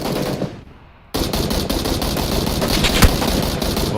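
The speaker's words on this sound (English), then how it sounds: "that gun sounds so intimidating" Sustained automatic gunfire in the video game PUBG, loud and close, with a brief lull before dense rapid bursts resume and continue steadily to the end.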